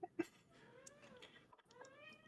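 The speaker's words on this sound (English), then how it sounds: "I hear her meowing a little bit." Cat meowing indoors during a home call, a few faint, short meows rising and falling over a quiet room.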